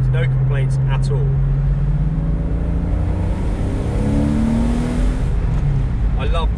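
Engine of a Porsche 986 Boxster S hums at a steady pitch from inside the car while driving, with road roar underneath and someone talking over it at the start and end.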